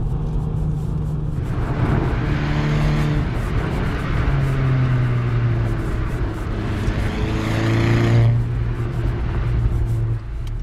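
A 2009 VW Golf R Mk6 accelerating hard, heard from inside the car: the engine note climbs through the gears, with pitch dropping at each shift and building again, loud and steady throughout.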